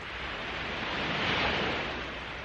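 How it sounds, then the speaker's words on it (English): Gentle waves break on a calm Cornwall beach, a soft continuous surf wash that swells briefly in the middle, with light wind and no voices. "We've just got to film those gentle breaking waves."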